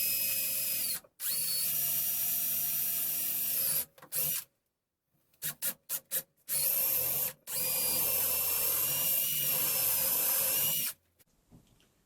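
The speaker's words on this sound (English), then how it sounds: "Now I'm going to drill some holes through the sides and into the flip top for some bolts." A power drill bores holes through the wooden sides and flip top of a cart, with several long high-pitched whining runs broken by short bursts and pauses between holes.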